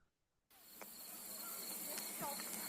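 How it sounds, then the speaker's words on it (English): Cricket-like chirps sit over a steady hiss in a campfire-style song arrangement with a banjo and harmonica feel, entering abruptly after a brief quiet start and continuing at a moderate level. "And crickets."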